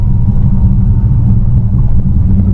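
A drag-racing truck's engine rumbles at a drag strip, a loud, deep and steady low drone that stays constant and close through the short stretch with no voices.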